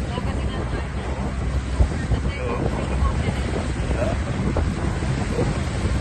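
A boat rides big Pacific waves near Calaguas, with heavy wind buffeting the microphone over a constant rush of churning water and hull noise, loud and unbroken.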